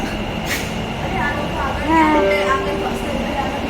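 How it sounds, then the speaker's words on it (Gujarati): Riding an Ahmedabad metro train toward Sabarmati: a steady rolling hum with a rising electric motor whine near the middle, and people talking over it. "આપણી મેટ્રો આવી ગઈ છે અને મેટ્રોમાં બેસી છીએ"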